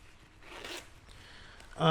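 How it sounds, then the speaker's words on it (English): A zipper is drawn on Held Hakuna Matata II motorcycle pants, a soft, brief rasping pull in the middle followed by a louder burst at the end, close and quiet with no speech. "you also have a zipper over here. I'll show you."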